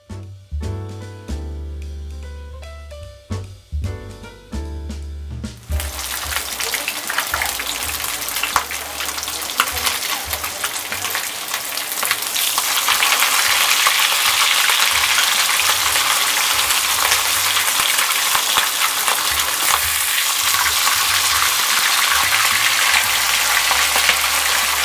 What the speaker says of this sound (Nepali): यहाँनिर मैले 6 वटा पिस माछा लिएको छु र यो सबै एकैचोटी नै म फ्राई गर्दैछु